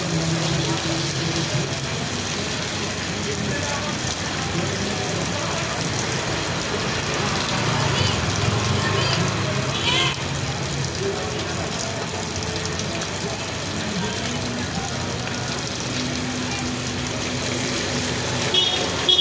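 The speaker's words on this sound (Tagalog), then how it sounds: "Grabe yung ulan." Heavy rain pours steadily in Manila, Philippines, a dense, unbroken roar of falling water with faint background sounds mixed into the wash.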